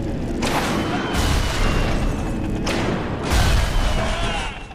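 Grenade explosions in the video game Bioshock, heavy booming blasts with rumbling roar, two strong surges over a few seconds amid dense noisy game sound.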